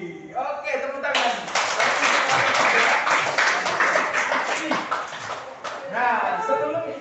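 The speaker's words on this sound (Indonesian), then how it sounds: "Oke, tepuk tangan." A junior high school science class applauds together in the classroom, a loud, dense burst of clapping lasting several seconds, with a teacher's voice speaking before it and again as it fades.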